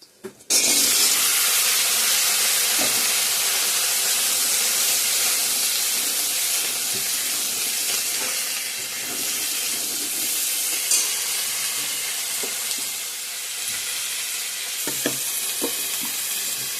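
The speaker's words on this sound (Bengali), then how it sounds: "ফোড়ন দেওয়া হয়ে গেছে, এখন সবজিগুলো দিয়ে দেবো।" Mixed vegetables such as potato and taro fry in hot oil tempered with whole spices for a Bengali fish curry, giving a loud, steady sizzle with soft stirring clatter throughout.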